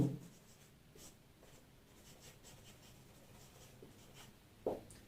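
Pen strokes from someone writing by hand on paper during an English grammar lesson, a faint, steady scratching that goes on alone, broken by a couple of soft taps.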